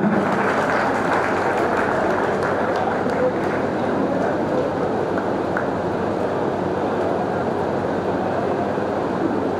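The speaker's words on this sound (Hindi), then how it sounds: "आपकी तालियां" Audience at a Sarv Brahmin Samaj talent felicitation ceremony in Shajapur claps continuously, a dense, even wash of applause filling the hall without pause.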